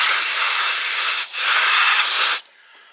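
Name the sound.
compressed air can spraying to dry gear parts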